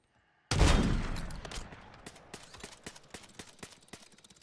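A single loud sniper rifle shot in an online shooter game bursts out of near silence, its boom decaying into a trail of sharp, scattered clicks and smaller reports.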